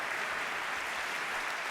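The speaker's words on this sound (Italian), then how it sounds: "E io inviterei anche la platea a fare un applauso alle donne" An audience at the presentation of the Vigili del Fuoco historical calendar in Rome claps in a brief, even burst of applause that sounds faint and distant, with no voices over it.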